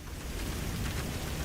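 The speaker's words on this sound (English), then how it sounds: "Welcome to Glasgow here, where it is raining and it's pouring" Rain pours at Glasgow airport in Microsoft Flight Simulator 2024, a steady dense hiss of downpour that stays loud and even throughout.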